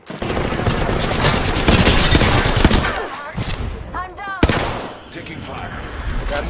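Bursts of rapid gunfire crackle in a battle royale video game, with several volleys over the first few seconds, then quieter shots with voices talking over them.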